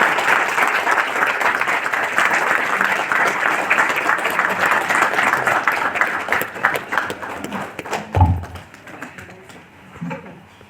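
A church congregation claps steadily to welcome the pastor to the front, a dense continuous applause that thins out near the end, leaving a few scattered claps and a low thump.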